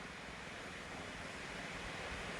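Sea waves at Mandvi Beach wash in as a steady, broad rush of surf with wind noise over it, continuous and fairly loud throughout, with no voices.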